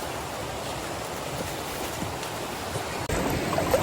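River water rushes steadily at a river crossing on Mt. Lakay, a dense, even flow close by with no voices, briefly dipping and then resuming.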